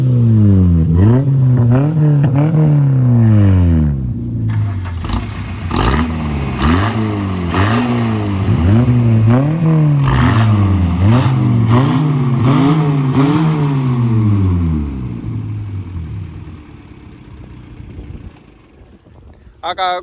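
A motor vehicle engine revs repeatedly in rising and falling surges, loud and close, then idles down and fades; people talk over it.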